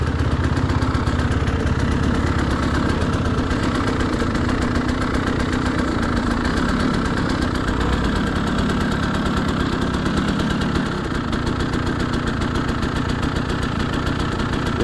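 An enduro motorcycle engine idling up close on a winter trail ride, a loud, continuous throbbing rumble that holds steady throughout without revving.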